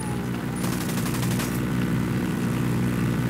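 Propeller aircraft engine in Ghost Recon Wildlands, a steady droning hum that stays loud throughout, with a brighter whir building partway in and no talk over it.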